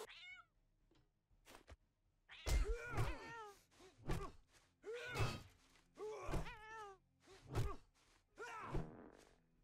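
A cat creature in a modded video game lets out a series of loud, guttural meowing roars, about five in a steady rhythm, each preceded by a heavy thump, with a few quieter cries at the start.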